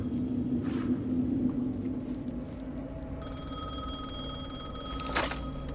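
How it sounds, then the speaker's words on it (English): A telephone ringing in the video game Alan Wake 2, a long electronic ring tone that starts partway through and holds steady over a low rumbling ambient bed, with a brief sharp burst near the end. "Phone again."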